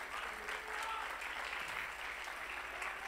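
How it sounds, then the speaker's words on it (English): A church congregation claps its hands in praise, steady and dense applause from a crowd heard at a moderate distance, holding evenly throughout. "Clap your hands, everybody, and give God praise."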